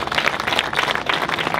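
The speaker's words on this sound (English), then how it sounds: "Let's give every one of those representatives from all levels of government a round of applause" Audience applause at an outdoor groundbreaking ceremony for a port railyard, a dense steady patter of many hands clapping for the full stretch, moderately loud with no talking over it.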